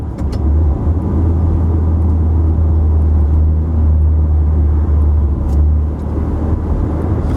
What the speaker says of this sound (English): the exhaust actually changes a tiny bit in sport mode